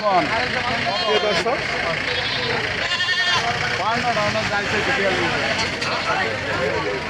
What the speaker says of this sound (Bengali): সাটুরিয়ার হাটে যে ঈদুল আজহার ছাগলের হাট সেই ছাগলের হাটগুলো আমি আমি আপনাদেরকে ঘুরে ফিরে দেখাচ্ছি